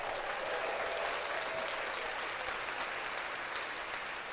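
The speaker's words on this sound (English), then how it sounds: "Let's clap that up." Steady, dense clapping fills the whole stretch at an even, loud level, with no talking over it, during a sports talk show covering the NBA and March Madness.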